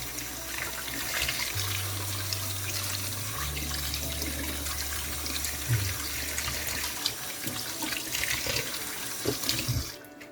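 Kitchen tap runs steadily into a sink while vegetables such as spinach are washed, a continuous close splashing flow with a low hum underneath, ending abruptly when the water shuts off.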